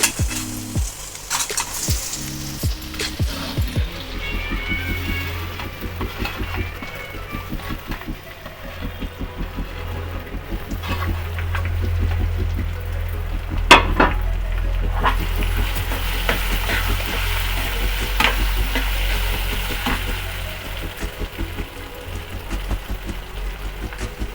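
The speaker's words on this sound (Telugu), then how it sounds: "గోల్డెన్ బ్రౌన్ కలర్ వచ్చిన తర్వాత అప్పుడు మామిడికాయ తురుము వేయాలి." Grated raw mango fried in a pan for mango pulihora, a constant close sizzle with repeated scraping stirs and occasional clinks of the spoon against the pan, running throughout with no speech.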